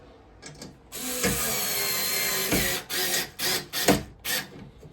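Bolts being tightened by hand with a tool during assembly of an Ikea VIHALS bed frame, a steady close mechanical grinding followed by several short bursts of turning and clicking.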